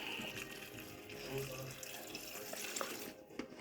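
Water runs from a tap into a homemade tomato and garlic cooking mixture, a steady hissing splash held close for several seconds, fading near the end.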